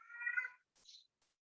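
A cat meows close by, one clear drawn-out meow followed by a short higher chirp-like meow, alone in silence.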